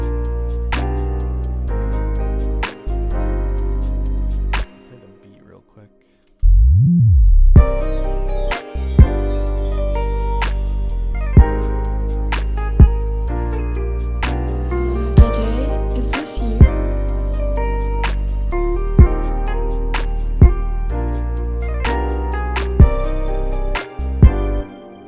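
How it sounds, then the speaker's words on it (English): A 90s-style R&B beat plays back with steady kick and snare hits under soulful chords and leads, briefly dropping out around the fifth second before the groove returns and continues, with no voices over it. "It's some like classic R&B."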